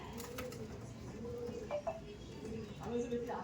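Pigeons of a breed kept for sale coo softly in low, repeated throaty calls at moderate distance, under people talking nearby.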